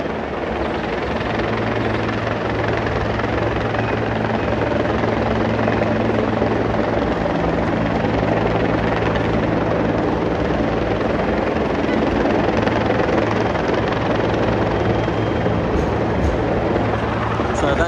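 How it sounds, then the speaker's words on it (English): Loud, steady rotor roar of a low-flying helicopter overhead at a street protest, constant throughout with a deep throbbing drone and no pauses. "the helicopter's just up there. It's very low down compared to what they normally are."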